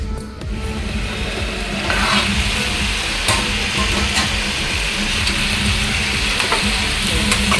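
Chicken for kaju chicken gravy cooks in oil in a covered pan, giving a steady, close sizzle and hiss that stays even throughout, with no talking.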